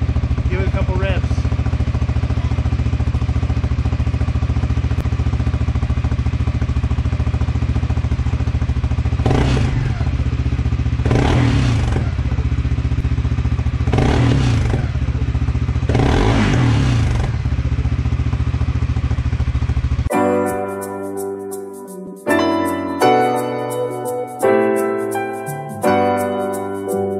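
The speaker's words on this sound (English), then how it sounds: "jump on there, it's warmed up. Give it a couple revs." A warmed-up 2022 CFMoto CForce 600 ATV engine idles loudly and steadily, with four brief revs rising over it, before the sound cuts to a different, choppier mechanical noise.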